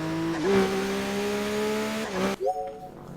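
A powerful car in the TXR racing game revs with a sustained, rising engine whine, dipping through a couple of gear changes before climbing again, loud and close with no voices.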